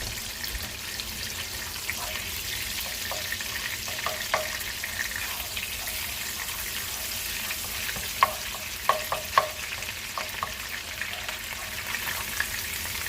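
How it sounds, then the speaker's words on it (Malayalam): Finely chopped onions fry in melted butter in a pan for Karnataka-style yellow rice, giving a steady close sizzle with occasional light clicks and taps from stirring. "നമുക്കിതിലേക്ക് സവോള ചെറുതായിട്ട് അരിഞ്ഞിരിക്കുന്നത് ചേർത്ത് കൊടുക്കാം"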